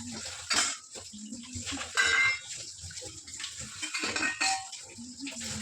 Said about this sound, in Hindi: अब ये सारे बर्तन धो के मैं रसोई भी कर लूँगी साफ।